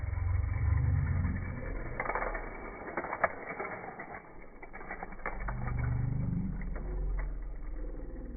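Hot Wheels die-cast toy cars, a Lamborghini and an Audi, roll down a long plastic track, giving a steady mechanical rattle and clatter with a few sharp ticks and clacks from the wheels and track joints.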